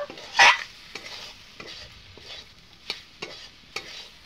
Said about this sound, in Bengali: একে আমি একটু নাড়াচাড়া আমি করে নিব।